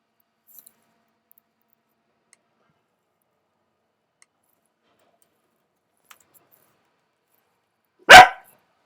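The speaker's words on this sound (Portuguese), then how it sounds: "o cachorro latiu" A single dog bark sounds once, loud and sudden, near the end of an otherwise near-silent stretch.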